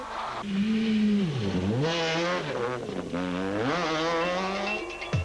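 A Castrol Toyota Auris rally car races through a stage at Tour Natal, its engine rising and falling loudly through gear changes, close by and continuous for several seconds.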